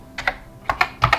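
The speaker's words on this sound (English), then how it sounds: "So let's see if the keyboard works." Keys tapped on a Commodore VIC-20 keyboard with a newly built motherboard, three quick pairs of clacky plastic keystrokes, close and distinct in otherwise quiet surroundings.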